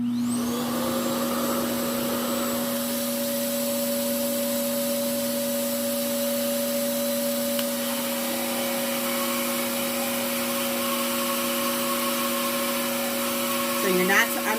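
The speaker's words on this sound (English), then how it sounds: "I'm not putting a lot of product on the dryer itself. So I'm going to turn it on." A loud RevAir vacuum hair dryer styler whirs with a steady droning hum and high whine, running continuously up close, with a brief shift in pitch near the end.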